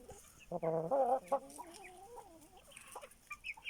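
Chickens on a farm with a broody hen and young roosters among aseel fowl, clucking and calling in short bursts close by, with quieter clucks trailing afterward.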